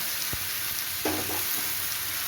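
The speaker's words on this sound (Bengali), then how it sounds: "দেখুন ঢ্যাঁড়স আলুটা ভাজা হতে হতে" Okra and potato frying in a pan make a steady, close hiss of sizzling oil, broken by a sharp tap and a brief bubbling burst; no one speaks.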